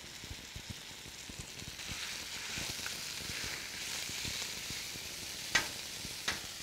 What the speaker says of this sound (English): I'm going to take that meat that's been sitting in my fajita seasoning for a while, and I'm going to throw it right on there.